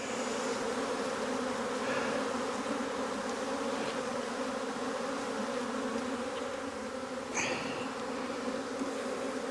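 Honey bees buzz steadily and loudly inside an open single brood chamber hive box in spring, a dense continuous hum filling the whole stretch with no voices.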